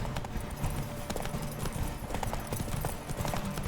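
Hooves of a horse clip-clop steadily in the Witcher 3 video game, a close, continuous rhythmic trotting over an ambient game background.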